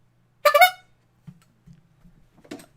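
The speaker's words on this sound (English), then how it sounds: "So here's a final honk." A single short honk with a bright, buzzy horn-like tone sounds up close, followed by a few soft low thumps and a second, quieter brief burst near the end.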